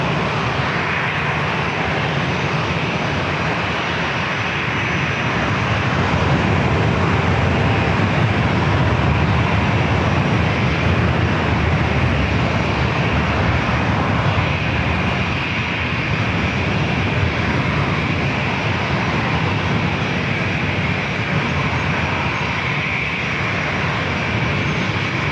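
American Airlines flight 2361 jet taking off from San Diego airport, bound for Dallas Fort Worth, a loud sustained engine roar that holds steady and broad throughout, with no voices.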